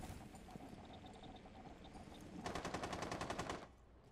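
Automatic gunfire in Rainbow Six Siege, a rapid burst of closely spaced shots that swells loud and near for about a second over a steady bed of game ambience, then stops.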